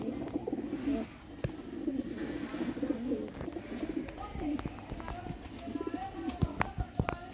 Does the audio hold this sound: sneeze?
no